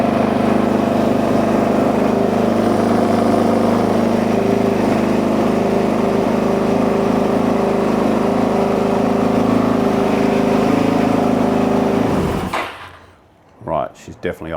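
Engine of the Iron Canary running at a fast, high idle, a steady loud drone that holds for about twelve seconds before cutting off abruptly, followed by brief rustling.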